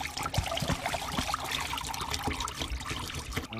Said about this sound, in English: Now dump the hot water out